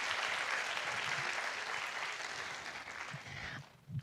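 An audience at a Spanish-language conference talk gives applause, a moderate, diffuse clapping that carries steadily, then thins and fades out near the end, with a few faint low thuds.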